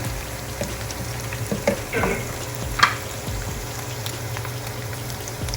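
Chicken frying in a pan for a chicken avocado salad, a steady low sizzle with a few stirring scrapes and clicks, close and moderately loud, no voices.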